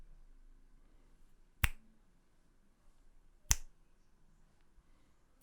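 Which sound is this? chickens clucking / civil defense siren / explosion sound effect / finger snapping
finger snapping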